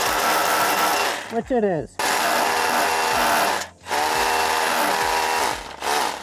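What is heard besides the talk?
drill clearing out a hole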